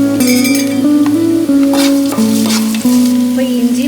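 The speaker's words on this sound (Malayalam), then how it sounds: "നമുക്ക് അതിലേക്ക് ഇഞ്ചിയും കൂടി ഇട്ട് കൊടുക്കാം." Ginger fries in hot oil in a pan for a Kerala fish head curry: a steady, close sizzle with intermittent stirring clinks and scrapes of a utensil against the pan.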